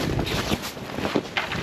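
Wind gusts roar steadily across a frozen Red Lake during ice fishing in pouring rain, a close, rough buffeting rush with brief swells, no voices.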